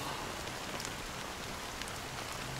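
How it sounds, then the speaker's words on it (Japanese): Steady rain in the Honkai Star Rail video game, a soft continuous hiss of drops falling on surfaces, even and unbroken throughout with no other sounds. "この雨は"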